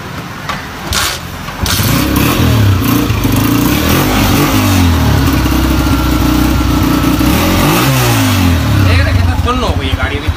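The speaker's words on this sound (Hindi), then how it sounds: "स्टार्ट करूंगा अभी गाड़ी" The engine of a diesel vehicle, its engine compartment caked with mud, cranks and catches after a short pause. It then idles loudly up close and revs twice, with people talking around it.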